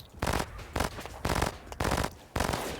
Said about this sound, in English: this is just me firing the cannon